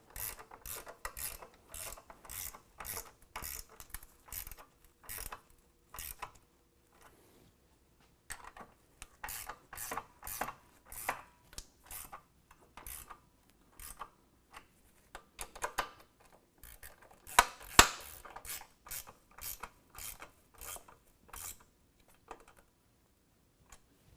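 A 13mm ratchet wrench tightens nuts on a nerf bar bracket, giving quick bursts of clicking ratchet strokes with short pauses between, close and fairly faint, no talk.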